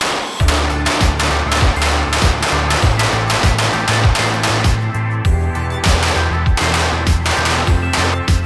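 A PSA Rock 5.7 pistol fires at an outdoor range in a rapid, steady string of loud, sharp shots, closely spaced with only a brief pause partway through.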